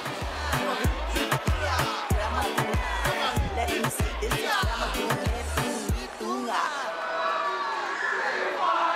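A school cheer team at a big youth athletics meet chants in rhythmic unison, loud punchy shouts pulsing in a steady beat for about six seconds before trailing into looser crowd noise and voices.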